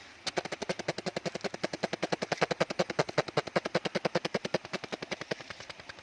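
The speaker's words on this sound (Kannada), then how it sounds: "ಆ ಹೆಲಿಕಾಪ್ಟರ್ ಸೌಂಡ್ ಹೇಗಿತ್ತಂದ್ರೆ" A helicopter's rotor thumps in a fast, steady rhythm, loud and close overhead, with no voices.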